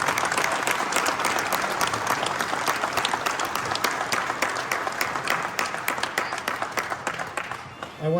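Sustained audience applause at a VW car show gathering: a dense, even roar of many hands clapping, loud and steady for several seconds before tapering slightly near the end.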